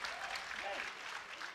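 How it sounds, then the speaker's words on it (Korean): Audience applause for fighters at an AFC MMA middleweight bout, a steady broad wash of clapping with some crowd noise mixed in, filling the short moment without pause. "양 선수에게 응원의 박수를 부탁드리겠습니다"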